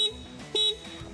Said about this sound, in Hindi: हॉर्न कुछ इस तरह से इसका बजता है